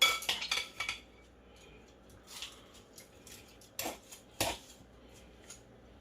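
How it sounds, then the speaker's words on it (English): Raw oxtails being mixed by hand in a bowl for a Jamaican oxtail dish, with light clinks and scrapes of the bowl, a cluster of knocks at the start, then sparse louder clatters, close up and without talk. "And now I'm just gonna mix it around."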